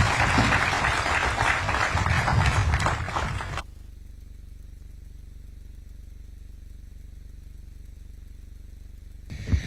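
Applause rings out from a university audience honouring President William Ruto in Kisumu, dense and loud for about three and a half seconds before cutting abruptly to a low steady hum.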